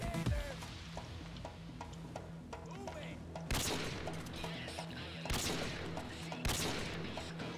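Minigun fire from a Bulldozer enemy in the Payday 2 video game rattles in sustained bursts with loud booming hits, moderately distant beneath a busy game mix.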